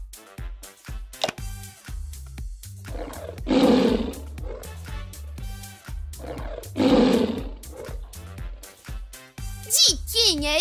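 Two loud, rough roars from a cartoon tiger, a few seconds apart, each a sustained rasping growl, set between animated characters' cheerful voices.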